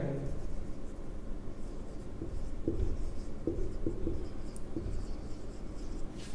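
Marker or chalk writing on a classroom board during a computer lesson, a steady scratchy scrawl with a few sharper taps as strokes begin, close and fairly loud throughout with no speech over it.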